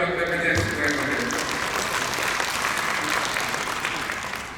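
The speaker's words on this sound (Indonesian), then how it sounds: "Kita beri tepuk tangan buat BPJS Ketenagakerjaan" Audience applause at an Indonesian governor's launch event, a full, sustained round of many hands clapping evenly, loud throughout and easing slightly at the end, with a brief voice at the start.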